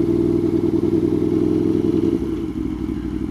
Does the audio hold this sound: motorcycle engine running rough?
yes